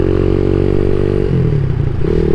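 A CSC SG250 motorcycle fitted with a MotoCult Stage 4 exhaust idles with a steady, close, loud throb; partway through, the pitch and tone of the idle shift noticeably. No one speaks.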